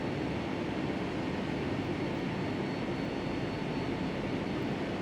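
Boeing 757-300 jet engines in the flight simulator FSX spooling up before takeoff, a steady broadband roar that holds constant and fairly loud throughout with no talking.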